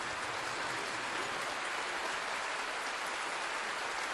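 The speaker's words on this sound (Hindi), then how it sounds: "तालियां जोरदार होनी चाहिए।" An audience applauds at a government ceremony where appointment letters are handed out. The clapping is a steady, dense wash of many hands, even in loudness throughout with no pauses.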